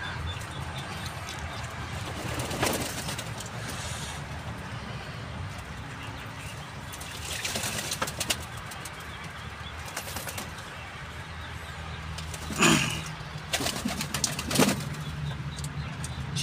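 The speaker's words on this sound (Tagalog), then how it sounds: "Ay, mga kalapati natin ay ligo." Pigeons bathing together in a shallow pool of water, with bursts of wing flapping and splashing against a steady outdoor background, some close and loud.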